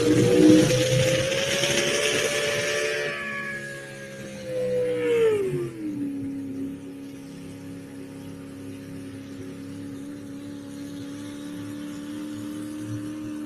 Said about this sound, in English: You heard the truck never come to life.